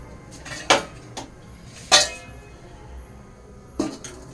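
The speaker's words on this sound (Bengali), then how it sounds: "তো দেখো এই যে আমি কিন্তু ঢাকনিটা দিয়ে দিয়েছি" Metal lid set onto a kadai on the stove while baking a vanilla cake at home, giving three sharp clanks spaced apart, each with a short ringing tail, over quiet kitchen background.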